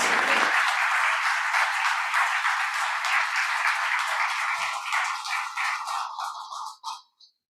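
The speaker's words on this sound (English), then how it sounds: "put our hands together in appreciation of our new members" A worship congregation applauds new members at a church service, steady sustained clapping from the whole room that tapers off and stops near the end.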